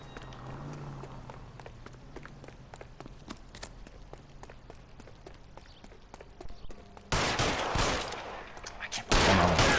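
Gunshots in the video game L.A. Noire come as a rapid series of sharp, fairly faint cracks over hurried footsteps, followed by louder bursts of noisy rushing near the end.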